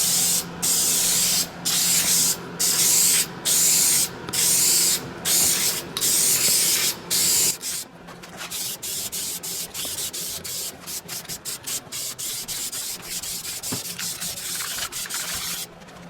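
Dupli-Color Perfect Match scratch sealer primer sprays from a can onto a van hood in close, loud bursts, a regular run of pulses first and then shorter, quicker hisses.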